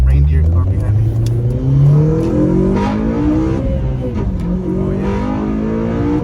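A Honda Civic Si engine revs hard under acceleration, its rising harmonics climbing steadily toward a high-rpm peak before a shift, heard from inside the car with a brief voice over the drone.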